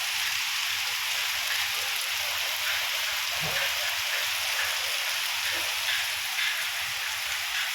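Rain falls outside in a steady, dense hiss of drops on surfaces that holds evenly throughout, with no talking.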